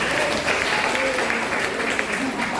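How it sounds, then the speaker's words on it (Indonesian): An audience of students at a school motivational session bursts into steady applause, a dense wash of clapping lasting a few seconds, loud and close. "boleh tepuk tangan dulu buat kita"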